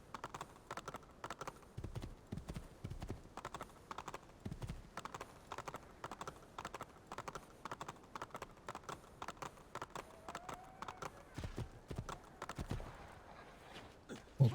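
Horse hooves clip-clop steadily in the Assassin's Creed 2 video game, a quiet, even trotting rhythm running throughout with a few brief tonal game sounds near the end.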